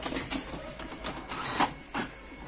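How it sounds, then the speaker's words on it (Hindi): A Brother DCP-T420W inkjet printer scanning and copying an Aadhaar card, giving a steady mechanical whir with repeated clicks and clunks of the feed and scan mechanism, close by with no talking. "देखिए प्रिंटर अब स्कैन हो रहा है और जेरॉक्स हो रहा है।"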